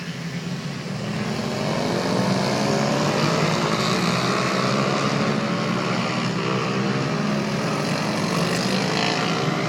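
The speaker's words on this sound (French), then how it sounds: "je vous quitte sur ces ces quelques dernières motos" Continuous roaring engine noise of racing motorcycles at the Circuit du Val de Vienne, loud and sustained, with whining, shifting pitch as machines pass steadily throughout.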